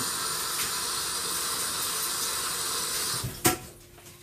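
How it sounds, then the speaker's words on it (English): Tap water runs steadily into a sink while hands are washed during home cooking, a broad hissing splash that continues for about three seconds before the flow shuts off with a brief clunk, leaving quiet room tone. "Let me wash my hand."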